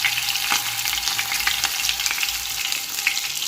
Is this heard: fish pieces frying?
yes